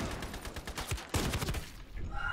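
Gunfire in the online shooter Ironsight comes as a rapid burst of shots, loud and close, stuttering in quick succession before cutting off and leaving a faint tail.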